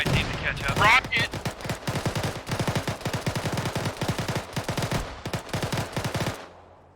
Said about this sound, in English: Just took fire from an RPG northwest 338, 200 meters